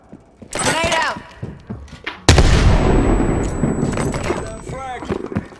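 A frag grenade blasts loudly midway through a Call of Duty: Cold War match, leaving a long rumbling decay, with scattered gunfire and voices talking before and after the explosion.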